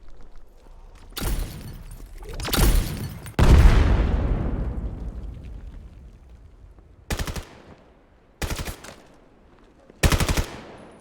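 Gunfire in a competitive video game grand-finals match: three loud bursts with ringing decay in the first few seconds, followed by three short, sharp bursts spaced a second or two apart, with no talk.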